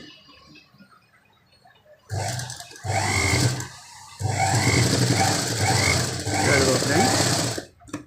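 A sewing machine stitches a cut work blouse in two long, rapid, buzzing runs with a short stop between them, close and loud, with a voice talking alongside.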